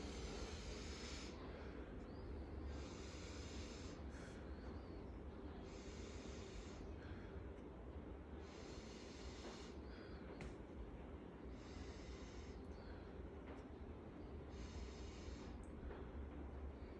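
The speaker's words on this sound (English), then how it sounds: "Deep breath." A patient breathes deeply in and out during a chest auscultation, slow, even breath cycles repeating steadily over a constant background hiss, with no talk.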